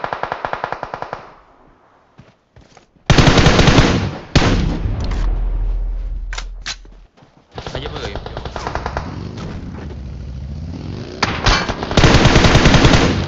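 Loud bursts of automatic gunfire aimed at a vehicle in a video game, long sustained rattling volleys broken by short pauses and single shots, with a voice talking in between.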